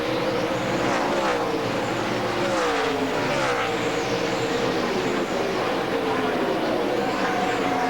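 NASCAR Nextel Cup stock cars racing at Dover in 2006, a continuous loud roar of engines with shifting pitch as cars pass close by, heavy and sustained throughout.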